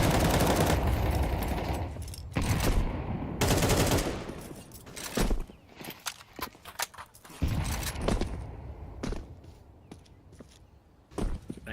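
Gunfire in a tactical shooter video game at a playoff match: loud bursts of automatic fire and separate shots, broken by quieter gaps with faint footsteps and mechanical clicks.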